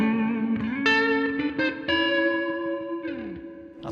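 Electric guitar played through a Laney Black Country Customs Secret Path reverb pedal with modulation turned up, ringing sustained chords and notes with a huge shimmering wash of reverb and echo trailing behind, loud and up close.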